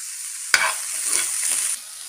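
Carrots for a tri-colour chutney drop into a hot pan with a sudden sharp sizzle that bursts loudly, then settles into a steady hiss before cutting off abruptly.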